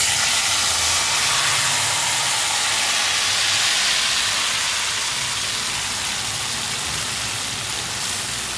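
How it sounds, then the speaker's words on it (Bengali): Nigella seeds sizzling in hot oil in a pan, the first step before fish goes in for mustard hilsa, a loud, continuous, even hiss throughout that eases off slightly toward the end. "এখন আমি কালো জিরেটা ফোড়ন দিয়ে দিচ্ছি।"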